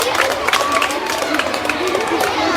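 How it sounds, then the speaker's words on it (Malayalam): A classroom of children claps together, a quick patter of uneven hand claps mixed with lively young voices and chatter, close and steady throughout. "എല്ലാവരും ക്ലാപ്പ് അടിക്കാട്ടോ"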